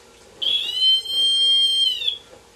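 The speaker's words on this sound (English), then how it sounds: "The brighter the light, the brighter the louder the whistle." A light detector emits a steady high whistle tone that swells in and holds for over a second before fading, clear and alone against a quiet background.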